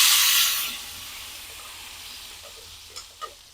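Balado chili paste hits used fish-frying oil with a loud opening sizzle that eases into a steady frying hiss, broken near the end by a couple of sharp spatters; no voices.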